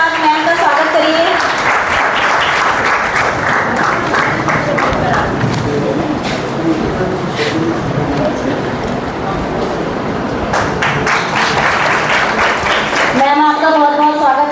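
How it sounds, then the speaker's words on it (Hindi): Sustained audience applause greets a guest at an education conference, loud and dense clapping that holds steady for about thirteen seconds before fading near the end, where a voice comes in over the hall. "जोरदार तालियों के साथ मैम का स्वागत करिए।"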